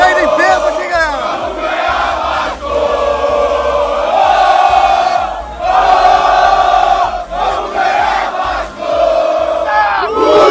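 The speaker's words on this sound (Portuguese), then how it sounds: "Torcida do Vasco aqui, galera! Uma multidão aqui em Santa Catarina" Vasco football supporters massed in a street in Santa Catarina chant and roar together, a loud, continuous crowd din with rising and falling sung phrases and shouts close by.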